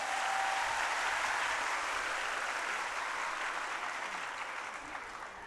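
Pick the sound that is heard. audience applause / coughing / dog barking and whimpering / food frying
audience applause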